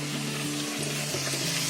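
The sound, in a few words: puri frying in hot oil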